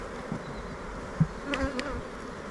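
Honey bees buzz around an open hive frame of fresh honey while the nest is being expanded in spring. A steady, close drone fills the air, with a few louder passes as single bees fly near.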